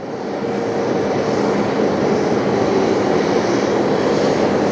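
A jet airliner taxis at JFK airport with only one engine running, producing a loud, close, continuous engine roar with a broad rushing tone that holds steady throughout.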